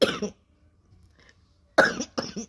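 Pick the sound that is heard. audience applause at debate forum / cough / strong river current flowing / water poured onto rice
cough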